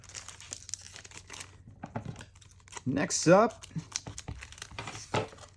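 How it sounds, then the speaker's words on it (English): Crinkly plastic wrapper of a Japanese Pokémon card booster pack being handled and cut open with scissors, a short burst of rustling and crackling between stretches of quiet, with a voice speaking briefly over it. "I always use scissors when opening Japanese packs"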